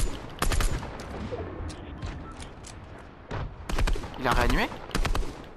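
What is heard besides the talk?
gunfire in a shooting video game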